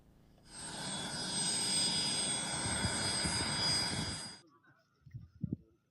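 An army helicopter after an emergency landing near Nalgonda produces a loud, steady whine and rotor roar that cuts off abruptly, followed by faint thumps in near silence.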